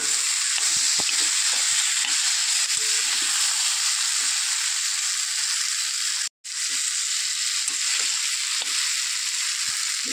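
Jackfruit curry frying in a pan, a loud continuous sizzle with intermittent scraping stirs, a brief break midway before the sizzle resumes.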